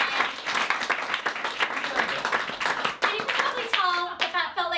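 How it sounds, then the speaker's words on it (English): Cabaret show audience applause, lively close hand clapping with sharp individual claps that thins out toward the end, where cheering voices and whoops rise over it. "So applause for all of the thank yous."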